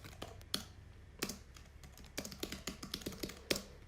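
Clicky keystrokes on a computer keyboard as a project name is entered in accounting software, irregular taps in short bursts with pauses, close and fairly quiet with no talking.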